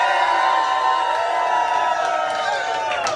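A JavaScript conference audience cheers, whoops and shouts in a sustained, loud wave of crowd noise, with scattered clapping and voices rising toward the end.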